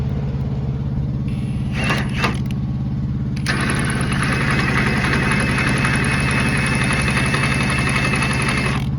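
A loud impact driver winds the landing gear on an unloaded trailer, two brief bursts followed by a long sustained whirring run with a steady high whine over a heavy low drone.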